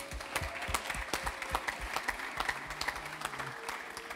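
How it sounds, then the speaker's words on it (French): An audience at an evening event closing a sport industry fair applauds students and staff, dense sustained clapping from a crowd with sharp individual claps standing out over the whole stretch. "Oui, on peut les applaudir aussi."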